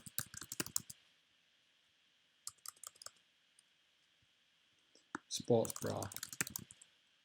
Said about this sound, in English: And then what I would do is basically type in whatever I'm selling.